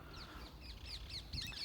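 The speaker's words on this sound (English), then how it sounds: "These birds." Green birds calling outdoors on a hike, repeated sharp chirping calls in quick succession over steady background noise, growing busier toward the end.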